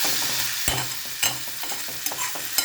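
A spicy non-veg curry stir-frying in a pan, a dense close sizzle punctuated by several sharp scraping and clacking strokes of a spatula, with no talking.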